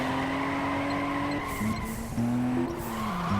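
Tire skid and engine drone from cars drifting in the Juiced 2 racing game, a continuous squealing slide with shifting engine pitch that stays loud and steady throughout.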